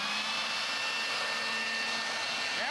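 A leaf blower runs with a steady, loud, continuous whoosh outdoors, blowing toilet paper along, with a brief shift in pitch near the end.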